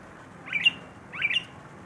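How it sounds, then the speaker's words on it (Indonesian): An Asian pied starling kept in captivity gives two short, bright squawking calls about half a second apart, clear and close over a quiet background. "teriakan sang Jalak Suren"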